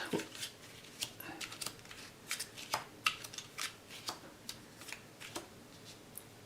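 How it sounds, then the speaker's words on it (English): Cards drawn one by one from a deck in the Oathsworn: Into the Deepwood board game, making a quiet series of crisp flicks and snaps of shuffled card stock, close and faint. "So the Broodmother will get just 1 red and 3 yellow might cards. We'll go ahead and draw those."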